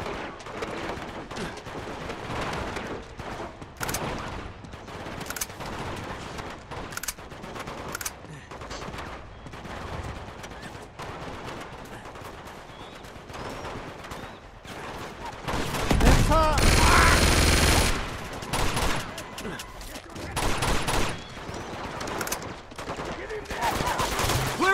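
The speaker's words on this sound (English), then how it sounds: "Shooting me over here." Gunfire from enemies shooting at the player in Uncharted 2: Among Thieves on PS4, bursts of automatic fire and single shots cracking steadily throughout, with a louder dense burst midway and a player's voice talking over it.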